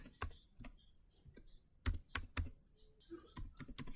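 Computer keyboard typing while entering switch port security commands, irregular clusters of sharp close key clicks with gaps between bursts, no voices.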